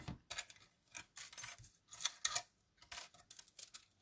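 Scissors snip through paper for a flipbook pocket in a quick series of crisp, close cuts, some single and some in short bursts, with quiet pauses between them and no talking.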